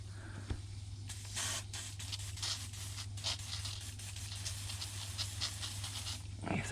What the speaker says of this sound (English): let's get some WD-40 sprayed onto